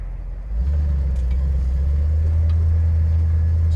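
A 1956 Ford Fairlane Victoria engine rumbles deeply inside the cabin. It starts after a quiet half-second, then holds steady and loud while the car drives.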